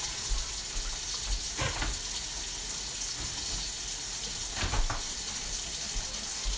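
A kitchen tap runs steadily, filling with water to warm broth for beef stroganoff, a constant hiss with a couple of brief splashing bursts.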